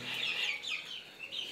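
Several hens clucking in soft, continuous overlapping calls, fairly close, with a light background hiss.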